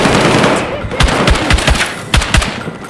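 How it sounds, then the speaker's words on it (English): Suppressive machine gun fire in the Battlefield 6 video game rattles in several close, loud bursts over a dense wash of combat noise. "Enemy through the wall! Suppressive fire!"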